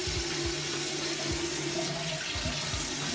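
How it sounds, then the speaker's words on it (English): A sink tap runs water in a steady, close hiss during children's handwashing at home, with faint knocks and splashes underneath. "All right, Callie, get the water running"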